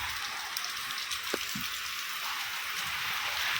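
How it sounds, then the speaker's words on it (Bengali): Heavy rain patters steadily on surfaces with a dense, even hiss, quiet and continuous, with a couple of faint brief knocks in the background. "গত পরশুদিন থেকে আমাদের এখানে হচ্ছে চরম বৃষ্টি"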